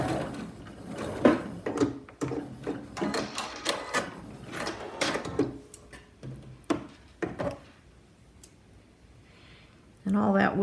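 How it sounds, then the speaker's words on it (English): A sewing machine backstitching a fabric mask seam, its needle giving quick ticking bursts of stitches in short runs, close and fairly quiet, with talk over parts of it. "Forgot to back stitch on my leading edge, so I'll give it a couple more stitches."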